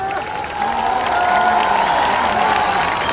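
A large crowd at an outdoor political rally claps in a dense, continuous wash of applause that swells and holds loud for a few seconds, with no clear speech over it.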